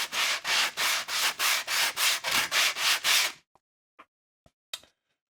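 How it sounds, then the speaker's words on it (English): Wood being hand-sanded between coats of finish on a small model road section, about a dozen steady back-and-forth rubbing strokes, close and fairly loud, then stopping, followed by a few faint light knocks. "put down layers, sand between each layer, 2 or 3 layers depending on how it looks"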